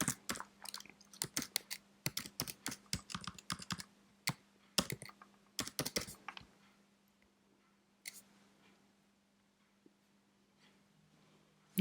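Fast bursts of close computer keyboard typing while card details are entered, crisp clicks in clusters that trail off into near silence, with a faint steady hum underneath.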